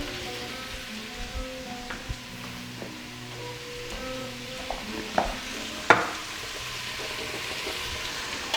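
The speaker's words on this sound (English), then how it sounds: "I only want to toss the meat and onion together for a bit" Meat and onion tossed together in a frying pan for gheymeh polo: a steady low sizzle with scraping stir strokes and a few sharper clanks of the utensil, close and fairly quiet, with no talking.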